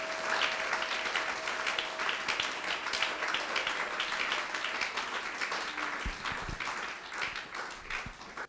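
A congregation applauds steadily for several seconds, a dense wash of many hands clapping at a moderate distance, with little voice over it.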